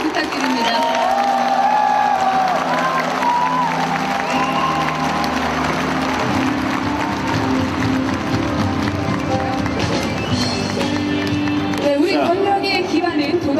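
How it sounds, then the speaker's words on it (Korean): A crowd at a political rally for Moon Jae-in's regime-change campaign launch claps and cheers, a loud, continuous roar with whoops and shouting voices throughout. "다시 한번 큰 박수 부탁드립니다"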